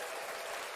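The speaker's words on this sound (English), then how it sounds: "I think that deserves an applause." Steady applause from a crowd, a dense wash of clapping that holds at an even level for the whole moment.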